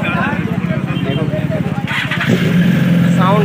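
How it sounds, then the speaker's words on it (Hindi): BMW 1000cc superbike engine running close by, a throbbing idle that rises into a rev, with people talking over it. "तो बाइक 1000 cc बाइक है, तो इसका साउंड भी कुछ अलग है।"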